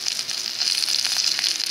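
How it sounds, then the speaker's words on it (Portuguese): Rice sautéing in a pan with garlic and seasonings, a soft steady sizzle and crackle that stays close and fairly quiet throughout, with no voices. "Refogando, selando o arroz, o sal, os temperos."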